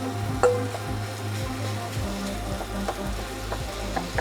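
Ground meat frying in an oiled pan with onions and garlic for tacos rice, a steady close sizzle broken by scattered crackles and stirring clicks.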